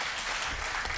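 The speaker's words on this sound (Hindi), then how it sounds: "एक बार जोरदार ताली" Audience applause at a live Birha folk singing performance of the Lorikayan epic, a dense, steady wash of clapping that fills the whole short moment at full strength.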